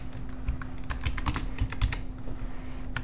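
Fingers type a password on a computer keyboard to log in to a Minecraft 1.12.2 server: a quiet run of irregular, close key clicks over a faint steady hum.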